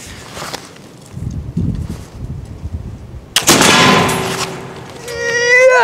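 A single loud, sharp shot from a Lyman Great Plains rifle cracks out after quieter outdoor shuffling and footsteps, its boom trailing off into the open air.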